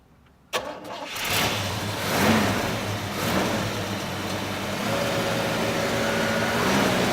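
A 1956 Chevrolet Corvette with a ZZ4 engine cranks and fires up after sitting in the cold, then settles into a steady, smooth running rumble up close, with a slight swell in revs as it pulls away.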